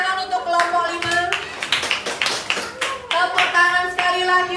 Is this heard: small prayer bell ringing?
no